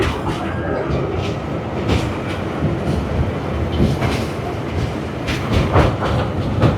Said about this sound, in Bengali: এটা হচ্ছে মেট্রো ট্রেন। এই যে আমরা ট্রেনে যাচ্ছি।